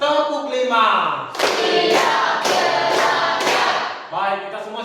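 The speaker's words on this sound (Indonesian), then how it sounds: "Dan tepuk 5." A group of people, likely a class with its teacher, claps together on a counted cue, several loud synchronized claps in a row, and voices are heard calling out before and after the claps.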